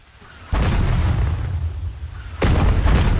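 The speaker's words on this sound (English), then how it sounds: "Grenade." Two heavy grenade blasts in the Ratten Reich war game, each a sudden loud boom with a rumbling tail, the second coming about two seconds after the first.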